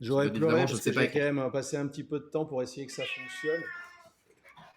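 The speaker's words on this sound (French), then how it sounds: "Ah oui, mon Euh, chat, excusez-moi pour le bruit." Domestic cat meowing loudly and repeatedly, close by, under and between someone speaking French, with drawn-out plaintive cries near the end.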